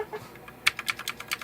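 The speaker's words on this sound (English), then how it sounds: "that is definitely a blue type switch" Typing on an E-Blue K753 budget mechanical keyboard with blue-type clicky switches: a quick burst of about eight sharp, close clicks in uneven rhythm following a quiet start, with no voices.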